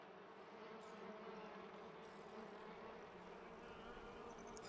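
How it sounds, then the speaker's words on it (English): A faint, steady, close buzz of bees around a beehive in the video game Palia, continuous and unbroken with no voices. "Oh, there's a beehive up there."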